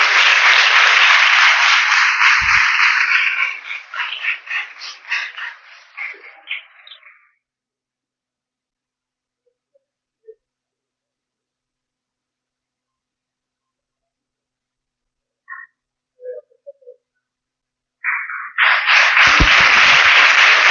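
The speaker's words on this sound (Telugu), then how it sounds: "చప్పట్లు కొట్టండి, గట్టిగా చప్పట్లు కొట్టండి." A church congregation bursts into loud, sustained applause as the Father cuts a celebration cake after Sunday Mass; the clapping fades out, a long near-silence follows with a few faint stray noises, then a second full round of applause erupts.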